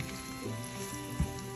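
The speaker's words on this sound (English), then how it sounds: "we have to fry them until they're golden brown" Bitter gourd (karaila) frying in hot oil, a close, steady sizzle with a small pop near the end, no voices.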